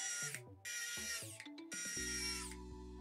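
A small electric screwdriver drives screws back in to refit the battery of a Lenovo Legion Go 2 handheld, several short whirring bursts with brief pauses between them, close and alone.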